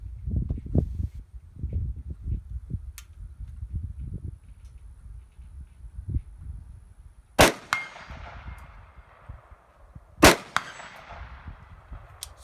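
Two sharp metallic rings from rifle rounds striking a 16-inch steel plate target out at distance, spaced a few seconds apart, each ringing out briefly over low wind rumble.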